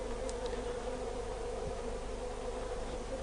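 Honey bees hum densely and continuously at a top bar hive in April, a close, steady buzzing swarm sound with no talking over it.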